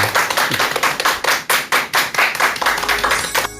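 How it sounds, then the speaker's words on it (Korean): Applause for a lecturer at a Korean public talk: loud, close, rhythmic clapping with distinct, even beats throughout, stopping near the end. "큰 박수 부탁드립니다"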